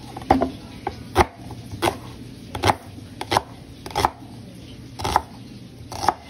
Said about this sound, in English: We kind of cut them in thick slices because we don't want to totally obliterate the onion when it's in the pan